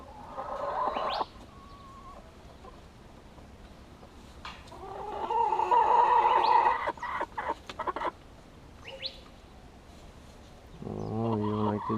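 Chickens cluck in a backyard coop, with scattered short clucks and a longer drawn-out cackle midway, moderately near and under occasional light background noise.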